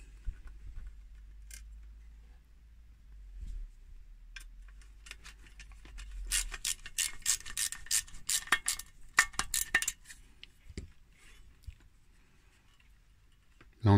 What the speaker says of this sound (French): Et on visse tout.